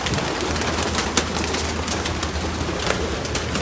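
A dense flock of birds, mostly pigeons, with scattered cooing and rustling over a constant noisy background.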